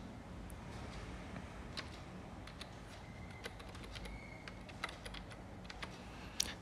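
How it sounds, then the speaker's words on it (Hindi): Fingers tap out a GST number in capital letters on a computer keyboard while filing a GSTR-1 return: scattered, light clicks and quick bursts of keystrokes, fairly quiet over a low room hum. "यहाँ पे अगेन मैं कैपिटल लेटर में जीएसटी नंबर लिख रहा हूँ"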